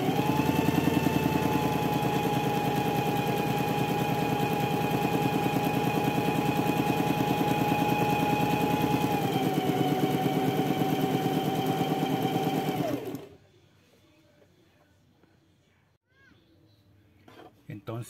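A sewing machine runs steadily while stitching satin fabric for a two-tone reversible cloth hat. Its motor whirs evenly at close range for about thirteen seconds, then stops abruptly, leaving near silence with faint handling sounds.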